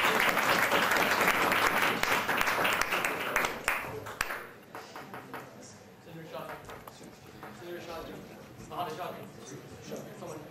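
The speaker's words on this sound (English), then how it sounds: "I'm going to round of applause for Jen tonight." Audience applause at a legislative session for a member's first bill, loud clapping at the start that fades out after a few seconds, followed by quieter room noise and talk.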